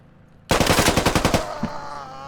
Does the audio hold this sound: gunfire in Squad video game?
yes